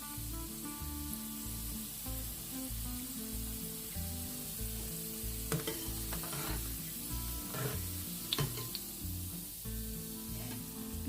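Slices of bitter gourd fry in hot oil with a dense, continuous sizzle, punctuated by occasional scrapes and clinks of a utensil moving the pieces, close and steady throughout.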